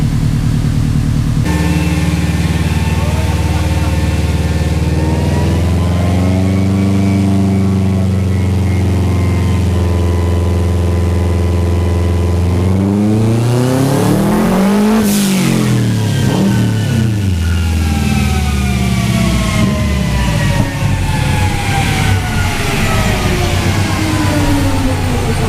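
A Subaru WRX engine revs hard on a dyno, a loud, close roar climbing steadily through the gears to a screaming peak, then dropping away and winding down as the run ends.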